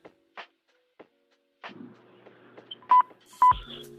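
Telephone keypad dialing tones ring out as a few short, clear beeps near the end, after scattered soft clicks and light handling noise, with no talking.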